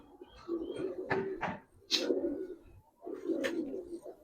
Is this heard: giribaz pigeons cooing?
yes